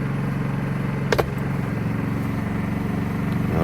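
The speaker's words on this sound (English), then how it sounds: "There's a difference in the generator." A portable generator drones steadily at an RV campsite in Quartzsite, its engine note shifting slightly as the electrical load changes, with a short clatter near the start.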